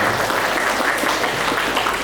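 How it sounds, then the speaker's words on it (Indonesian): Applause from an audience at a school new-student orientation talk show, a brief dense patter of clapping at moderate level with no talking. "Tepuk tangan."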